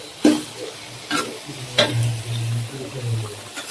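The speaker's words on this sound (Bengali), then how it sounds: "এই পাশ দিয়ে যে তরকারি কষাই নেওয়া হইতেছে" Curry stir-fried in a pan in a home kitchen: a few spoon scrapes and taps against the pan, then a steady low bubbling sizzle.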